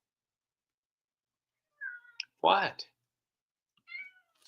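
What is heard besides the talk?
cat meowing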